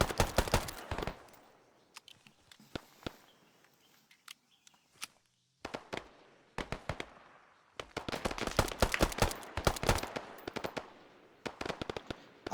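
Video-game M1911 pistol from the SOG DLC firing in sharp, irregular cracks amid a busy battlefield, with scattered single shots, quieter gaps, then dense clusters of gunfire and explosions.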